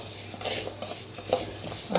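Horse gram dry-roasting in a pan while being stirred, with close, continuous scraping and rustling of the grains and light clinks of the spoon over a faint sizzle, no speech.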